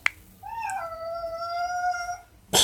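A domestic cat gives one long, drawn-out meow, close and clear against a quiet background, ending with a short sharp noise.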